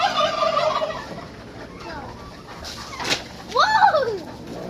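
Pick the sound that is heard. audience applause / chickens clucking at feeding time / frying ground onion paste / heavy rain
chickens clucking at feeding time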